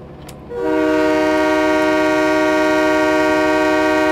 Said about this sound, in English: Got to remember to honk at these crossings, guys.